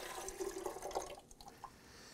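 Liquid from a young coconut pours into a container, a soft, faint splashing trickle lasting a couple of seconds with no talking.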